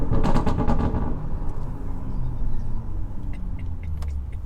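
Porsche 718 Boxster GTS, Stage 2 tune at about 520 horsepower, with a new exhaust: a loud, close, deep engine rumble that crackles and pops at first, then settles into a steady low drone.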